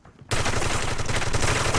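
A rapid burst of gunfire in a competitive online shooter match, a wallbang shot fired through a wall, with dense, loud repeated shots starting abruptly and continuing without pause.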